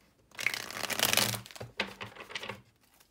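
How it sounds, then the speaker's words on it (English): Tarot deck shuffled by hand up close, a crisp riffle of cards followed by a couple of shorter flicking bursts. "one more good shuffle here."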